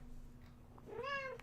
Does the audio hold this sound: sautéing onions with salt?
no